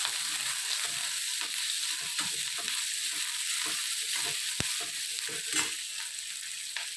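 Sliced onions sauté in hot oil for tomato sambar, a close, continuous sizzle broken by scraping stirs and an occasional sharp click of the utensil against the pan.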